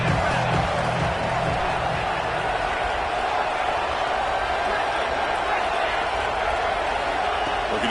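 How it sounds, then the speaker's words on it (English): A football stadium crowd roars steadily, a dense, loud wash of cheering and whooping that holds without letup, with a commentator's voice running faintly over it. "this crowd coming to life here, trying to help the defense get a stop"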